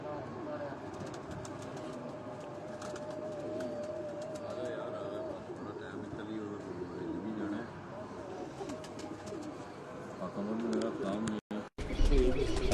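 Soft pigeon coos repeat in the background amid a busy, noisy setting on a rooftop with people talking nearby.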